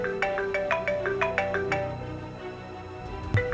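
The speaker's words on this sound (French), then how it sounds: "Votre téléphone sonne." Mobile phone ringtone playing a bright, rapid melodic tone pattern, fairly close, fading out after about two seconds, followed by a short bump.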